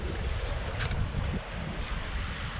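Strong wind gusting over a microphone during a solo canoe trip on Otterslide Creek in Algonquin Park, a loud, continuous roar and rumble heard alone.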